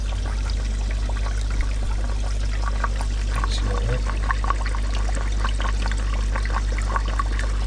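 Steady trickling and pouring water runs continuously through a valve on an aquarium fish breeding rack beneath a constant low hum, close by.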